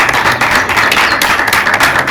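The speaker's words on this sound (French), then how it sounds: "On applaudit pour Fury, on applaudit pour Fury." Audience at a rap competition applauds for the rapper Fury, with steady, dense clapping throughout that is loud and close.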